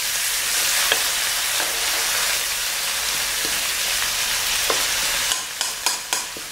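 Filling being stir-fried in a pan for pan-fried buns after soy sauce is added, a steady sizzle with scraping stirs and a few sharp clacks of a utensil against the pan near the end, no voice.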